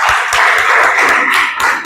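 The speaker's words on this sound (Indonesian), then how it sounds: "Kita beri tepuk tangan untuk kelompok 3." A classroom audience applauds a student group after their presentation, steady close clapping from many hands filling the whole moment without talk.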